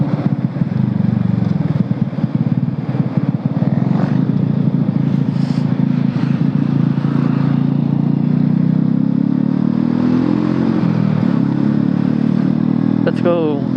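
Honda Supra motorcycle on a morning ride to work, its engine a steady close droning hum throughout, pitch rising slightly near the end, with possible voices faintly underneath.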